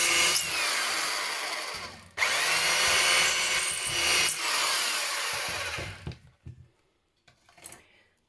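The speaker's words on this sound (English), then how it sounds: "I'm just going to use a power drill." A handheld power drill bores through the thin tin-can metal of a handmade peony flower in two long, loud, harsh whirring bursts, followed by quiet scattered handling knocks.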